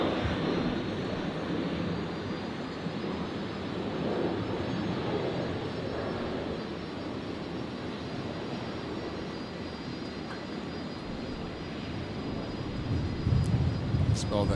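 A Boeing 777 taxis past on the apron at Brisbane Airport, its jet engines giving a steady, moderately distant hum and whine that holds evenly for the whole stretch.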